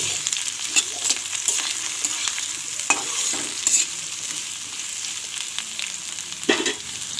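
Sliced bitter gourd fries in a pan in village style, a steady bright sizzle with repeated scraping stirs and occasional utensil knocks, close and without talk.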